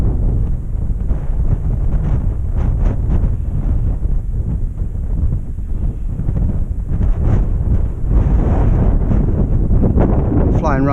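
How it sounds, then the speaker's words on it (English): Loud, steady wind buffeting the microphone while an RC model flies near the edge of a slope line, with gusty rumbling throughout and no clear speech. "so you've got a lot of bobbly wind"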